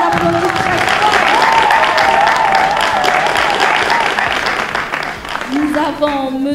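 A loud television game-show audience applauds steadily for the evening's millionaire contestant, the dense clapping continuing with cheering and a host's voice over it, tapering slightly near the end.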